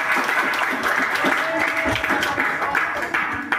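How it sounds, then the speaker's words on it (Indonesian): A school gathering claps for a teacher who is moving to another school, a dense, steady wash of applause with voices mixed in underneath. "tepuk tangannya lur."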